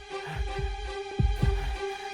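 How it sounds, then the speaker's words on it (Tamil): Heartbeat sound effect in a TV drama, a deep low thumping pulse repeating in lub-dub pairs over a steady hum, no talking. "ஹார்ட் பீட் வேற ரொம்ப பலமா கேக்குது"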